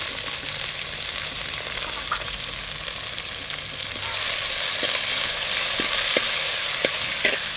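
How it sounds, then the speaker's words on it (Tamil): Green chillies and curry leaves frying in hot oil for a Tamil-style crab curry, a constant crackling sizzle that grows louder midway, with a few scraping stirs and light utensil knocks. "இது நல்லா வதங்கட்டும்."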